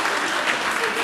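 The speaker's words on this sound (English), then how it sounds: "So let's give them a clap." Audience applause at a children's marine conservation roadshow, a steady dense patter of many hands clapping for about a second, fairly loud and close with no pauses.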